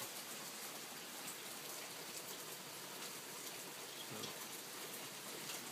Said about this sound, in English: the longer it goes, the bigger the flames are on the Trangia